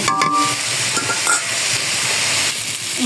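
A spiced mixture is stirred and sautéed in a pan, dense frying sizzle with scraping strokes of a spoon, close and steady, with a brief clink of utensils near the start.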